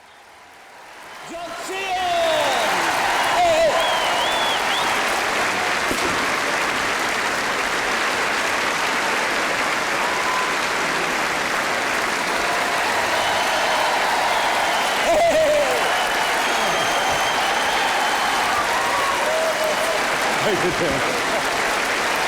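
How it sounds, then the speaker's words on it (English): Sustained audience applause from a live studio crowd after a performance, loud and dense clapping that swells in and holds steady, with some cheering mixed in. "Give him a round of applause!"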